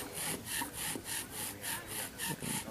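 A bow drill spinning a cedar spindle against a fireboard to make friction fire, with a steady back-and-forth rasping of about nine even strokes in under three seconds, close and alone with no talk.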